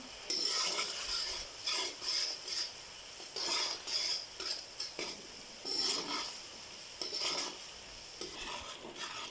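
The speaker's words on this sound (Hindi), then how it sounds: "देखें बुलबुले आ गए और चीनी भी हमारी मेल्ट हो रही है" Sugar syrup bubbling and melting in a pan with cardamom, heard as bursts of hissing and clinking stirring that come and go in short waves, close and moderately loud.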